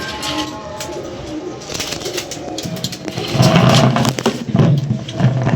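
Teddy pigeons coo in low repeated rumbling calls, close by amid a busy loft with wing flutters and background noise, growing fuller and louder toward the end.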